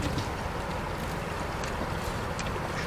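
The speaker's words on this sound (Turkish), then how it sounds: "Şu motoru bir stop edelim." A boat motor runs steadily at sea while a fish trap is checked, a constant low rumble mixed with wind and water noise, no voices.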